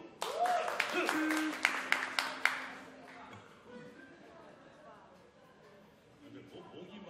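An audience at a World Yodel Day after-party breaks into brief, crisp applause with a few sharp claps standing out. It fades into quieter room murmur and some speech.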